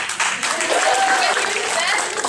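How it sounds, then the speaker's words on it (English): Audience applause at an inspirational speaking event, a steady wash of clapping and cheering from a crowd in a hall, loud and continuous throughout, with voices mixed in. "She needs an applause."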